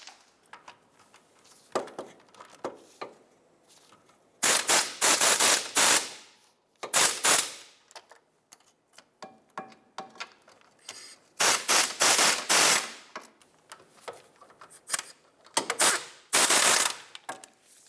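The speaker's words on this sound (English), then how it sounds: "So I'm just going to torque them down." Torque wrench tightening lug nuts on a 2007-2017 Jeep Compass rear wheel, giving bursts of loud rapid clicking and ratcheting, several separate runs with quieter gaps between them.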